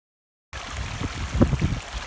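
Spring water gushing straight out of a mountainside at about 1,000 metres between Glen Affric and Loch Mullardoch, a steady close rushing and gurgling flow that starts abruptly after a half-second of silence.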